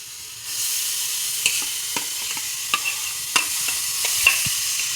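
Homemade paneer being stirred into a mango-milk sweet in a pan over low heat, soft steady sizzle with a few scattered spoon scrapes and clicks, no talk.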